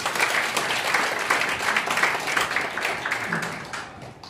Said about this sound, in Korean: 여러분 큰 박수로 환영해 주십시오.